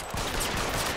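Gunfire in the LA Noire video game, shots fired into a corpse, a dense loud burst of rapid bangs packed across the full second with no speech over it.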